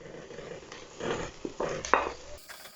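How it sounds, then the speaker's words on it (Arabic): Sliced onions and meat frying in butter in a pot are stirred with a utensil, producing scraping clatters and a few sharp clinks over a soft sizzle, close by and moderately loud. "هقلب البصل لحد ما يبدأ يدبل ويبدأ يخش في سنة الكرملة شوية"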